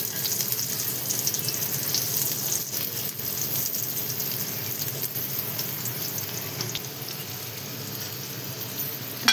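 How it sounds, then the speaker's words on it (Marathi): Bitter gourd frying on a hot griddle gives a continuous, even sizzling hiss at moderate volume, with no voices. "बघू शकता की ते मस्त असे कारले आपले फ्राय होत आहे."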